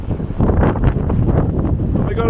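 Strong outdoor wind buffeting a microphone near a Peugeot Partner campervan on a UK landscape photography trip, a loud continuous rumbling roar throughout.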